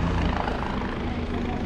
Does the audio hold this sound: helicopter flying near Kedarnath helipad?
yes